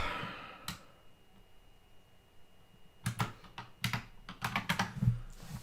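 Keys clatter on a computer keyboard as notes are typed: a single keystroke early on, a quiet pause, then a quick, close burst of irregular taps near the end.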